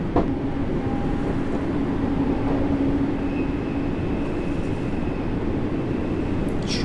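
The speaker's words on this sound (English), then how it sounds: "The train sounds superb through my headset." A BR Class 484 electric multiple unit in Train Sim World 2 runs steadily on the Island Line, giving a continuous loud rumble of wheels and traction with a faint whine, heard alone without talk.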